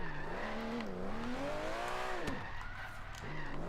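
Aston Martin Vantage GT12 drifting in Forza Horizon 3, engine pitch rising and falling with throttle as tires squeal through a slide, fairly faint and continuous without speech.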